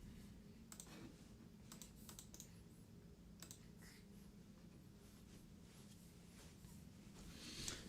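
Faint, scattered clicks of typing on a computer keyboard, quiet and intermittent over a low steady room hum with no voices.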